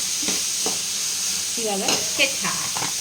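Noodles frying in a pan as soy sauce goes in, a steady close sizzle with scraping stir strokes and light clatter throughout.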